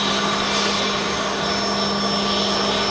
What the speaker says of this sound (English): So it's an Embraer 135. Looks like an executive jet.